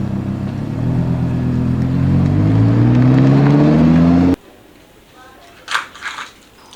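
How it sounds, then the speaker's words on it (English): A Ferrari engine revs hard nearby, a loud, rising roar climbing steadily in pitch for about four seconds before cutting off abruptly, followed by faint background noise and brief distant sounds. "Wow, this is awesome Ferrari."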